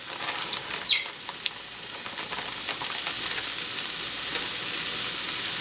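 Mixed veggies and crumbles frying in a pan give off a steady, bright sizzle while being stirred, with a few scrapes early on before the hiss settles into a constant even crackle.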